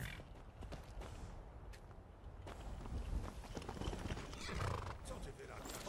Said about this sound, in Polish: Koń!